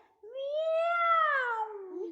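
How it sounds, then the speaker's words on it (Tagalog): A cat gives one long, drawn-out meow that rises and then falls in pitch. The call is clear and close, with no other sound around it. "It's a cat."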